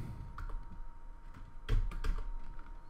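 Typing C++ code on a computer keyboard, with a steady run of close key clicks and a few heavier taps, no voices.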